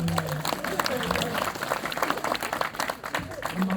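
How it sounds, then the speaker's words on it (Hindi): An audience at a Hindi kavi sammelan poetry event claps in a busy patter, running under a man's speech throughout. "ताली वाली बजाया है।"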